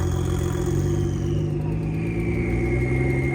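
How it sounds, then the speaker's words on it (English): A loud Porsche 911 Carrera T passes close by at a cars and coffee meet, a continuous deep engine rumble with a rising turbo whistle, no voices over it. "Here's that loud 911 Carrera T."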